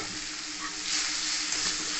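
Softened Malabar spinach (pui shak) fries in a pan with a steady, close hiss and sizzle that swells slightly partway through, with no voices.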